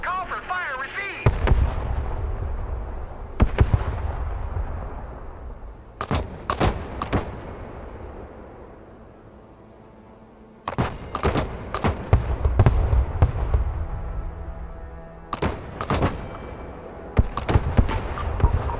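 Artillery fire mission in the video game Broken Arrow: a barrage of heavy booming shots and blasts, some in quick pairs and clusters, rolling across the clip with echoing decay between impacts.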